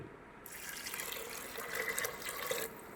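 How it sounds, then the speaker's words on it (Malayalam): Water pours steadily into a pressure cooker holding toor dal, a continuous close splashing rush lasting a couple of seconds before it tapers off. "അതിൻ്റെ മൂന്നിരട്ടി വെള്ളം അതായത് ഒരു മുക്കാൽ ലിറ്റർ വെള്ളം ഒഴിക്കുക"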